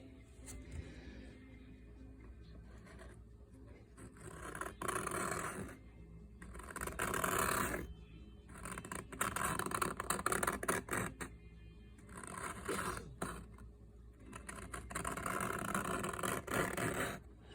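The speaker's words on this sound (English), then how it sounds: "See how dusty white this plastic is? We're just gonna scrape it." Old, crumbling, dusty plastic on a dirt bike being scraped, with repeated bursts of harsh rasping strokes separated by short pauses, close and moderately loud.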